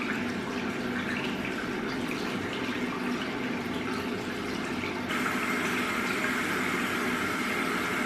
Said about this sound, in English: I just splash my face with fresh water from the tap